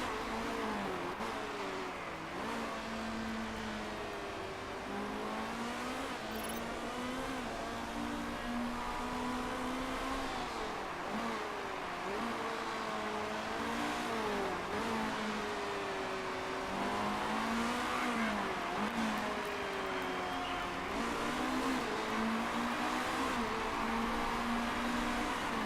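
Race cars in the Motorsport Manager racing game at the Munich track, engine whine rising and falling steadily and continuously at moderate level, several cars blending with no speech.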